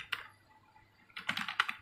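Computer keyboard keys tapped while text is entered into a word processor: a short burst of clicks, a pause, then a denser run of quick keystrokes, close and clear with no talking.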